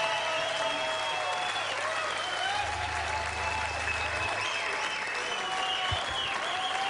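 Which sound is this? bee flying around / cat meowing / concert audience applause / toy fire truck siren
concert audience applause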